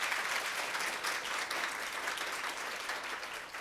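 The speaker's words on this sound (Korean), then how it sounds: "저희 강원도 현북중학교에서 오신 WCS 모둠에게 큰 박수 다시 한번 부탁드립니다" Applause from an audience at a school presentation event, a continuous moderate clapping that holds steady and tapers slightly at the end, with no talking over it.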